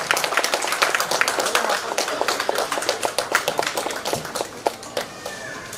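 An audience claps at a hospital launch event, giving a crisp, uneven round of applause that is loud and close and keeps going throughout.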